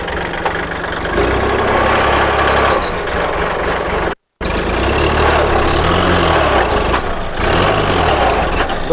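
The engine of a used Kubota or Iseki walk-behind tractor runs close by with a loud, steady idling rumble, briefly cutting out and returning, with subtle pulsing changes later.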